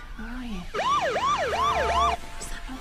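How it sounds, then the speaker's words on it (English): A wailing siren rises and falls in quick repeated sweeps, loud and close, over a rumbling background, with a faint voice before it. "It's sirens."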